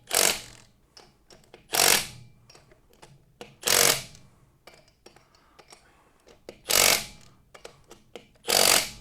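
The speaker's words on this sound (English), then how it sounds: "I love electric impact wrenches." An electric impact wrench works in a garage, firing five or six loud, short hammering bursts at irregular intervals, with quieter clicks and handling noises between them.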